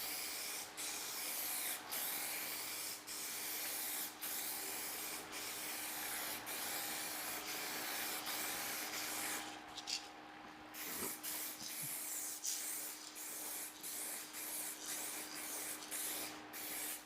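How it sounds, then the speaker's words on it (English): Aerosol spray paint hisses in repeated bursts of a few seconds each while paint-matching a 2022 Subaru WRX part, close and steady, with short gaps and a longer pause midway. "Since this is an aerosol, it doesn't go on quite as heavy as it would with an actual spray gun."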